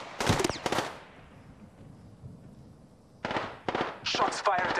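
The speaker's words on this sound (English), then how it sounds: "Shots fired at me" Gunfire in Apex Legends: two quick close bursts of shots at the start, a quieter gap, then a dense run of loud rapid reports near the end.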